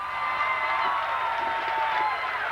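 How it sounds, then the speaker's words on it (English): A crowd of Trojan fans at a high school boys' basketball game cheers and applauds in a gym, a steady, bright roar of voices that holds at an even level throughout. "The Trojan fans are on their feet. I don't know what they're applauding for."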